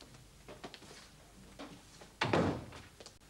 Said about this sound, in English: close the other door as well